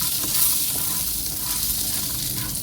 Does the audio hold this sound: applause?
no